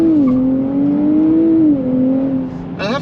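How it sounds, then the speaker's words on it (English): A 2024 Nissan Z with a 3-liter twin-turbo V6 pulls away from a stop, its engine note droning steadily up close and then easing off near the end. "Alright guys, so setting off in the new Nissan Z"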